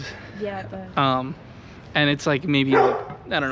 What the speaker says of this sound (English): There is a dog barking,